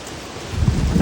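Strong wind roars and gusts against the microphone during a storm, building louder halfway through, with a rain-like rush underneath and no voices.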